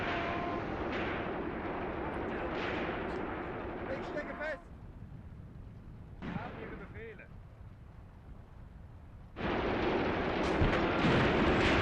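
Artillery and machine gun fire from the Graviteam Tactics war game, with dense rumbling blasts and bursts filling the clip, a quieter stretch in the middle, then heavy fire resuming loudly near the end.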